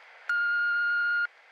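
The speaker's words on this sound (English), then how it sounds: "leave a message after the beep" An answering machine gives a single steady electronic beep lasting about a second, loud and clean against a faint hiss.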